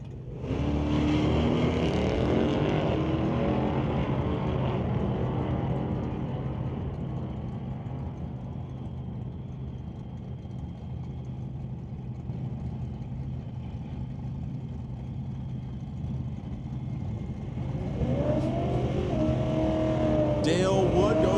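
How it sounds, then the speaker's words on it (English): At a drag race, a 2022 Mustang GT and a 1972 Chevrolet Nova rev loudly at the line, then roar off and fade into the distance before engines rise again nearby, with a voice talking over the noise. "That is the 2022 Mustang GT going up against Dale Wood's 1972 Nova."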